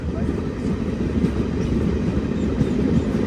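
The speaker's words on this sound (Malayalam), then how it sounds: "ട്രെയിൻ ഇപ്പൊ അടുത്തൊരു സ്റ്റേഷനിലെത്തിയിരിക്കുകയാണ്" Inside a train pulling into Anantnag railway station in Kashmir, the carriage gives off a steady low rumble of wheels and motion at an even, fairly loud level.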